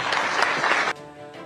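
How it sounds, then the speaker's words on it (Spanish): Brief burst of audience applause at a Spanish-language political editorial broadcast, loud clapping lasting under a second before cutting off abruptly. "Un aplauso."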